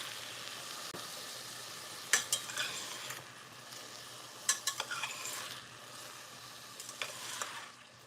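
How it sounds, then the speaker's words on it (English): Leeks and onions frying in jalapeno oil hiss softly and steadily while a spoon stirs them, making bursts of scraping and tapping against the pan, with no talking. "stir and I'll show you. So it's the leeks with the onions."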